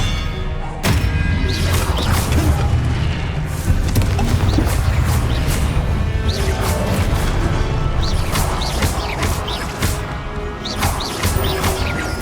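Hogwarts Legacy spell combat with an Expelliarmus spell cast, a dense run of loud magical whooshes, crashes and thuds repeating over a continuous game soundscape.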